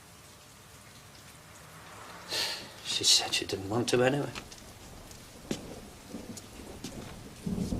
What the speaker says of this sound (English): It was the rain that did it